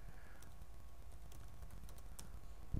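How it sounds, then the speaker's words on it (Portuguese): Typing on a computer keyboard during a web design lesson on applying Google Fonts, a soft, steady patter of key clicks under a low background hum, ending with a brief louder thump. "Por exemplo, aqui eu vou digitar."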